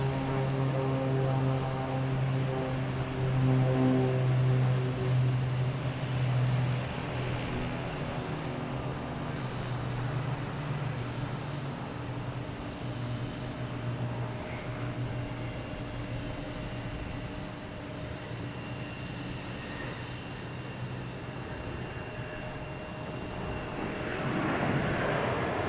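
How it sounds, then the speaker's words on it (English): A FedEx Boeing 767 arriving at Boston Logan Airport, its engines a steady, fairly loud broadband roar with low tonal hum that holds throughout and swells again at the end. "As the next to arrive, we have FedEx, a 767, not an MD-11."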